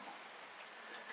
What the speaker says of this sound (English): Listen to that rain. It's just pouring out here.